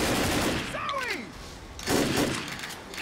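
Gunshots in the Left 4 Dead video game, a loud volley of shots under a dense wash of game noise, with a descending whine partway through and a second burst near the end.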